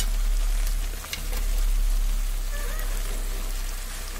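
Dried Bombay duck (loitta shutki) fish going into a pot of simmering vegetable curry whose liquid has reduced, giving a steady close sizzle and bubbling hiss with light stirring scrapes throughout.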